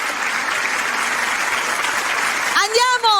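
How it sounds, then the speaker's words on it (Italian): Studio audience at an Italian television music show breaking into loud, dense applause that swells and continues steadily, with a shouting voice rising over it near the end. "Un applauso"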